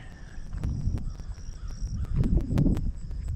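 Several birds calling outdoors at a Texas state park lakeside in early morning, with crow-like caws and scattered chirps over a low rumbling background, moderately distant and irregular.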